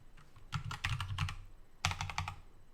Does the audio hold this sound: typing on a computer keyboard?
yes